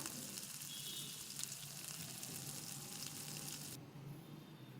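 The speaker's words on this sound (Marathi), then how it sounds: "जिरे मोहरी परतून घ्या कांद्याबरोबर" Mustard seeds and cumin sizzling in hot oil with garlic and onion for a Maharashtrian zunka, a steady close crackling fry throughout with no talk.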